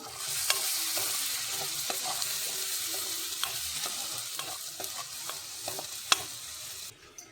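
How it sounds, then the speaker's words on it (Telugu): Ginger, garlic, green chili and onion paste frying in oil for a prawn masala curry: a continuous hiss of sizzling with repeated ladle scrapes and taps against the pan, closing with a louder knock. "అల్లం, వెల్లుల్లి, అలాగే పచ్చిమిర్చి, ఆనియన్ పేస్ట్ని అయితే యాడ్ చేసుకొని ఆయిల్లో మంచిగా వేగనివ్వాలి"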